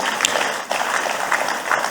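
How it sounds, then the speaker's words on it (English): An audience at an investment forum opening ceremony gives a steady round of applause for the event's sponsors, a dense, even patter of many hands clapping throughout. "so give them a warm round of applause"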